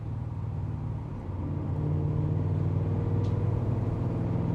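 A BMW E39 M5 V8 engine drones steadily with low rumbling tones, rising slightly in pitch as revs increase, heard from inside the car with no talking.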